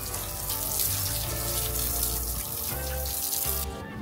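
Water running from a hotel bathroom shower, a steady broadband hiss that fills the space close by, with faint tonal hum beneath and no talk.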